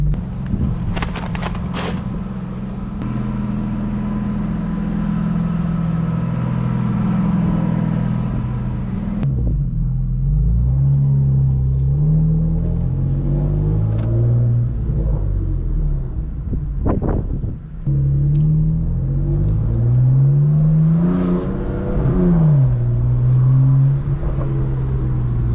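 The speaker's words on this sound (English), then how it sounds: "I'm gonna start the car up" A 2018 BMW M4 fires up with a sharp bark, then settles into a deep idle before a series of rising and falling revs with the exhaust valves open, loud and close.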